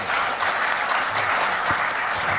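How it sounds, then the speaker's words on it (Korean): Steady, dense applause from a crowd throughout, loud and continuous with no talking, welcoming a speaker at a press conference in a large hall. "박수로 환영해 주십시오"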